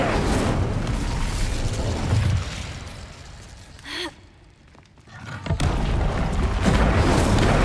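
In the Hogwarts Legacy game, the Incendio fire spell goes off as a loud whooshing, roaring burst, dropping away into a short lull before heavy rumbling noise surges back.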